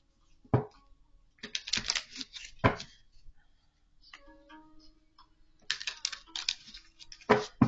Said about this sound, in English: I do want to shuffle.